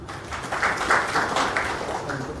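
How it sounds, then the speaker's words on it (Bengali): A crowd at a Bengali comedy show at the Grand Hotel claps for Kalkutta Komedians; moderately loud, continuous applause from a room full of hands, steady throughout with slight swells. "আরো একটা হাততালি কালকুট্টা কমেডিয়ানের জন্য"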